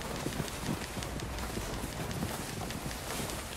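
Horse hooves clip-clop in Red Dead Redemption 2, a steady run of muffled hoofbeats buried in a constant wind-like wash of background noise, with no voices.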